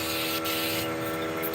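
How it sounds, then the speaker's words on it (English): A Critter spray gun sprays Kilz white chalk paint onto a vintage armoire wardrobe, a steady, even hiss that runs unbroken throughout at moderate loudness. "And now we decided we were going to spray it with chalk paint"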